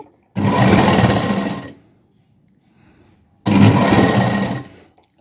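Sewing machine stitching piping along a drop-shaped keyhole opening on a boat-neck blouse, two loud bursts of steady whirring about a second and a half each, separated by a quiet pause.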